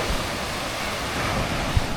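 Sea waves breaking at Harip beach in Surigao, a steady broadband wash of surf with wind noise, continuous and fairly close, with no voices.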